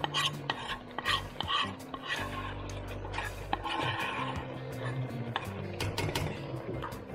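Red cabbage being stirred in a cooking pot, with repeated scraping and clinking of a utensil against the pot over a low, soft background hum.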